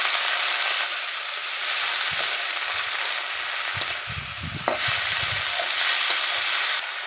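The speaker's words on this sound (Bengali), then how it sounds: "দিয়ে এখন ভালো করে নেড়ে চেড়ে নেব।" Bathua greens fry in a pan with turmeric and green chili while a utensil stirs them, giving a steady bright sizzle broken by a few scraping, clattering stirs near the middle, with no voices.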